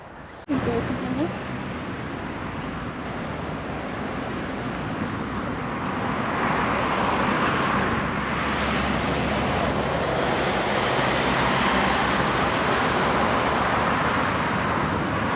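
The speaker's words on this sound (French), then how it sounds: "Je sais pas ce qu'il avait lui comme problème sur son bus, mais il fait un bruit." A faulty bus engine gives a loud, steady drone that fills the space with broad rumbling noise, and a high-pitched whine rises and persists over it.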